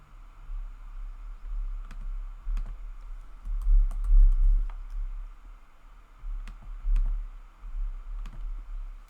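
Scattered keystrokes and clicks on a computer keyboard, close and fairly quiet, with irregular taps spread over a low steady hum.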